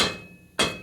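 A part on a 1961 Harley-Davidson Sportster XLCH is tapped into place during a transmission rebuild. Two sharp metallic hammer blows land about half a second apart, close and loud, each ringing briefly.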